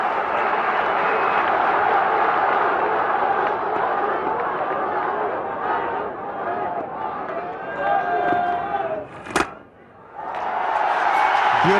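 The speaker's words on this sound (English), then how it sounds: "Something for the crowd to cheer." A stadium crowd at an India versus Pakistan Test match in 1999 cheers loudly and steadily as a batsman reaches a hundred, a dense roar that dips briefly near the end before swelling again, with a sharp thud in the lull.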